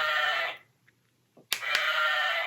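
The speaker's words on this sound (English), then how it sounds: "Rub the lamb's fleece to hear her baa." A toy lamb bleats a sustained electronic baa, loud and close, then falls silent before a second baa starts with a click from pressing the toy, with no talk over it.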